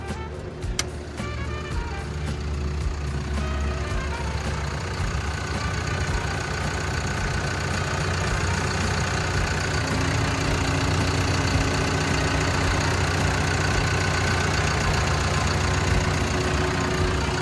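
A Hitachi ZW150 wheel loader's diesel engine idles steadily and close by, a continuous even rumble with a faint mechanical clatter that runs unchanged throughout, with no talking over it.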